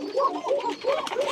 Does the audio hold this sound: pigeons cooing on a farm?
yes